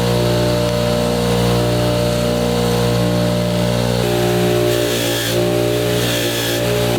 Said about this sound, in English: I'm gonna cut a little bit off it and actually shorten the bolt